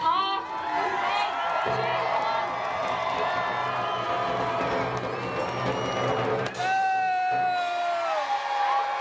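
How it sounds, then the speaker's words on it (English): A crowd at a Renaissance fair joust cheers on and off, whoops and shouts rising over a dense, continuous murmur of voices with some clapping, fairly loud and close throughout. "The people cheering on that car!"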